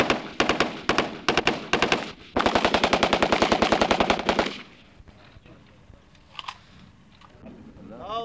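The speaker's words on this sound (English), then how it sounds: "I'm firing from the hip, from the shoulder, from all kinds of positions" A new Israeli rifle fires from the hip and shoulder in sharp, close bursts of rapid automatic shots, one long burst in the middle, then quieter handling noises afterward.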